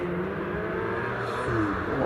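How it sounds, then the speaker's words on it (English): A Porsche 911 Carrera GTS launches off the line at the Prescott hillclimb, its engine a steady, loud roar that holds strong throughout with a slight rise near the end. "The Welsh driver gets away then in that 911"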